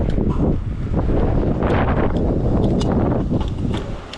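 Strong wind buffets the microphone at an outdoor bike pump track in Hatfield, a loud continuous roar and rumble with gusty swells throughout.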